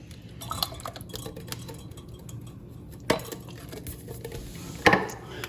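Canned peeled tomatoes are worked through a metal strainer in a kitchen, giving soft scraping and squishing with a couple of sharper clinks of metal against a bowl, close and fairly quiet, with no voices.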